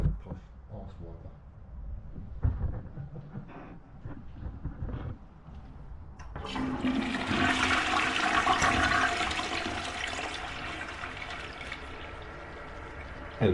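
A toilet at an abandoned truck stop flushes with a sudden loud rush of water, then settles into a steady hiss of the tank refilling. Faint voices and small bumps come before the flush.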